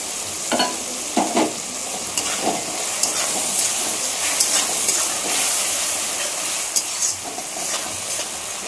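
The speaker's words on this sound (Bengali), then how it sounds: "মশলাটা একটু কষিয়ে দেব।" Masala with ginger paste and tomato paste fries and is stirred in a pan, a steady close sizzle broken by scraping strokes of the spoon, with no voices.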